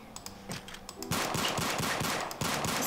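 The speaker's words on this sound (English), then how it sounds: "It's a gun." Rapid video-game gunfire rattles in quick bursts, a few scattered shots at first, then a dense, continuous automatic volley that stays loud for nearly two seconds.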